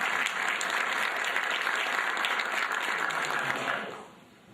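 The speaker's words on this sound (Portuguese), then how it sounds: "Uma salva de palmas, como o Carlos Carvalho falou, a todos nós." Audience at an opening session gives a round of applause, steady dense clapping that holds evenly and then tapers off near the end.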